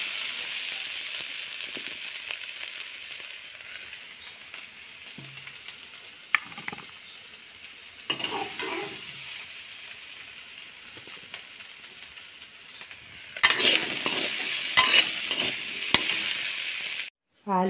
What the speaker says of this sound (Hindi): आलू हमारी अच्छी तरह से तल गई है